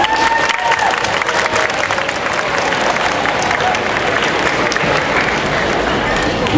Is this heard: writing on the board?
no